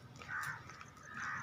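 A crow caws twice in the open air on a morning walk, moderately distant and fairly faint, over quiet outdoor background.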